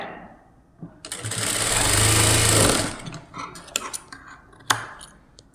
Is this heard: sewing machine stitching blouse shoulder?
yes